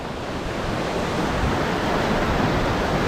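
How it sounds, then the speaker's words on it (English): Water gushes out into the Detroit River, a loud, steady broadband rush heard close up without talk. "The water's starting to come out."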